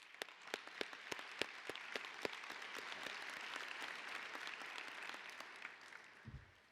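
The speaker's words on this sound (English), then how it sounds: "Round of applause for her, please." Audience applause fills a veterans' organization business session hall, a steady sustained clapping from many hands with a few sharper individual claps standing out, fading toward the end.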